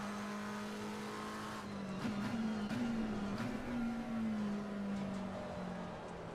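GT3 race car engine in Assetto Corsa Competizione on a lap of Kyalami, a sustained droning tone that rises and dips as the car shifts through gears, with faint tire noise.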